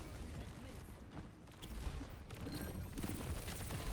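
Dense, rapid gunfire from Bastion's turret mode in the video game Overwatch, a sustained rattling barrage mixed with game effects.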